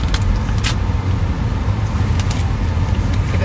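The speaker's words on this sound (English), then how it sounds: "we're in the car right now" Steady road rumble and engine drone inside a moving car, a continuous low wash with faint broadband hiss and a few brief rattles, no talking.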